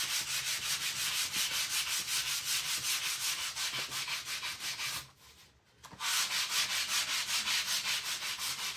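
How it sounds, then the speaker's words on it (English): Wood is sanded by hand with 80 grit sandpaper for a chippy, rustic finish, a close and steady rhythmic rasp of quick back-and-forth strokes broken once by a brief pause. "I'm also going to use my 80 grit sandpaper and sand a little bit"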